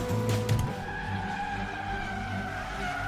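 A car driven recklessly fast skids with a loud squeal of tires at first, then settles into a sustained roar of engine and road noise, close and continuous.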